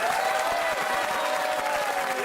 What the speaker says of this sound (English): Can we have a round of applause for our choirs and their celebrity ringmasters?